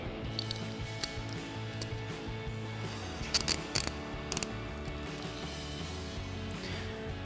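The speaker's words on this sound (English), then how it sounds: "tighten that back down using our E8 inverted Torx, our extension, and our ratchet" A ratchet with an extension and E8 inverted Torx socket tightens a factory mounting bolt on a 1994-2004 Mustang coil-over, giving brief clicking bursts over a steady mechanical hum in a garage.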